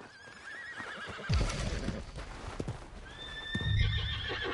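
A horse whinnies twice with a high, wavering neigh, over snorting, hoof thuds and ambient game sounds in Red Dead Redemption.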